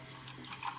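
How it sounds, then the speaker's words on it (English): Tap water streams steadily over a coffee pod machine part as it is rinsed, a continuous close splashing hiss with no talk. "We'll just give that a quick rinse out."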